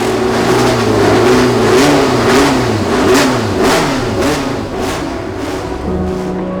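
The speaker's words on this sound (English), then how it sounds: "race engines are being fired up" Historic race car engines revving at the Monaco Historic in the harbour setting, loud and close, with rising and falling revs and several sharp blips layered over a steady idle.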